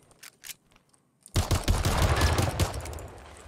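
A 1911 pistol fires in the World War trench shooter game Trenches. Two faint early shots are followed by a loud, dense burst of rapid gunfire that rolls on continuously. No one talks.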